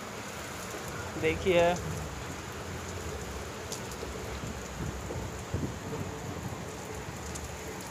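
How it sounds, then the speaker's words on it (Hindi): Heavy rain in Madhya Pradesh pours in a constant, broad roar, with a voice speaking briefly early on over the downpour. "बहुत भयंकर बारिश हो रही है दो दिन से लगातार कंटिन्यू।"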